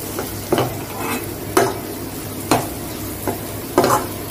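Curry masala powder fries lightly in a pan for egg masala gravy, a soft sizzle broken by about five evenly spaced scrapes of a spoon stirring it.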